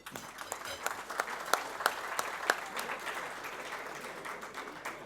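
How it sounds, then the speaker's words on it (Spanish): At a Rotary Club gathering in Buenos Aires, an audience gives a round of applause, a soft, fairly distant patter of many hands with a few sharper claps standing out. "invitada por su esposo Siríaco, por quien pido un aplauso"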